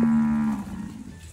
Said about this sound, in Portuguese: Ah, esse boi tá berrando, hein?